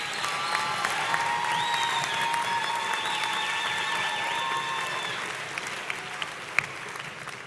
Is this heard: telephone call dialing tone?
no